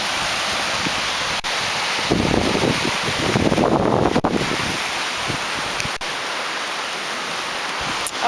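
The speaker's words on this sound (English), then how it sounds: "The water's going really swift." Swift-flowing water rushing through a forebay, a steady broadband roar close by with wind buffeting the microphone and a louder surge in the middle, no voices.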